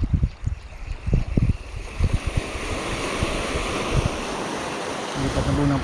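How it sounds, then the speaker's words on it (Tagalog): Heavy ocean surf with big waves roars and crashes steadily at a fishing spot, with gusts of wind buffeting the microphone and low thumps throughout. "Ang laki ang alon."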